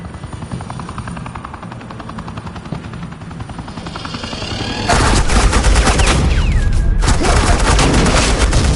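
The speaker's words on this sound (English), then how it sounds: "Suppressing fire." Sustained automatic suppressing gunfire in the Telltale Batman video game, loud and dense after a few seconds of quieter battle noise, with rapid bursts layered over a steady roar.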